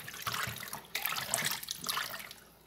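Homemade liquid laundry soap being stirred as it thickens, giving a continuous wet sloshing and swishing with a few brighter splashy moments, close and fairly quiet, with no talking.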